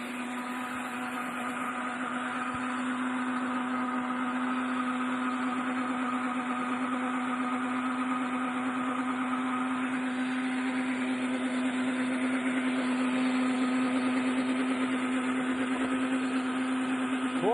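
A Todd English 800W high-speed vacuum blender runs steadily, pulverizing its contents with a constant loud motor whine and churning, alone and unbroken for the whole stretch.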